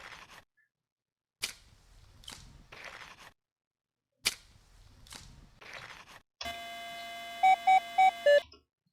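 A metal detector gives a signal: a sustained electronic tone near the end with three short louder beeps, following several sharp bursts of digging and scraping noise separated by silences.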